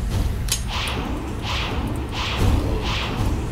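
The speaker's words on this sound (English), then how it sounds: "Now these are, I think, homing missiles." Homing missiles fired in the BloodWorks video game, a series of whooshing launches and dull thumps repeating roughly every half second over a constant dense rumble of game sound.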